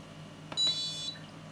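An Arduino alarm built with a 4x4 keypad and PIR sensor gives a short, faint electronic beep, a couple of quick tones in a quiet room.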